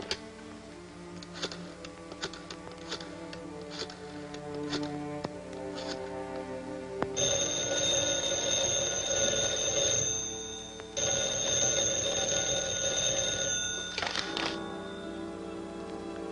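A telephone in an old black-and-white-era film rings in repeated bright, metallic bursts, then gives way to a longer, denser ringing tone, all clear and fairly close with no talk over it.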